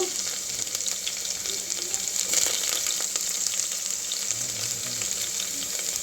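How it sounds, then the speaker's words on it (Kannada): Ginger garlic paste sizzles steadily in hot oil with mustard seeds and cumin, a dense, even hiss with fine crackles that continues without pause, close by and alone. "ಸಾಸಿವೆ ಮತ್ತು ಜೀರಿಗೆ ಚಟಪಟ ಅಂದ ನಂತರ ಅಲ್ಲ ಬೆಳ್ಳುಳ್ಳಿ ಪೇಸ್ಟನ್ನು ಹಾಕ್ಕೋಬೇಕು"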